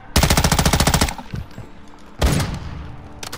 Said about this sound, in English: He started shooting at me.